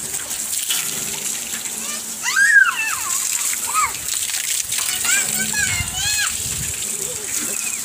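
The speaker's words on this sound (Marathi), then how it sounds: "ट्रॅक्टरची धुवाधुवी." Water splashes and gushes while a tractor is washed with shampoo outdoors, intermittent splashing running under children's excited voices and adult talk.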